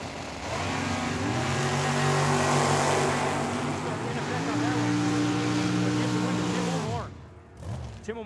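A Chevrolet Camaro drag races down the strip at Tucson Dragway, a loud, close engine roar climbing through rising gear pitches before cutting off sharply near the end.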